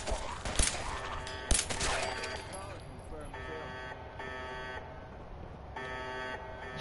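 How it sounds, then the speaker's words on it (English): An alarm buzzer in a Vault-Tec workshop in a Fallout video game sounds in repeated loud electronic bursts with short gaps between them, heard against game noise and a speaking voice. "stop with the alarms already"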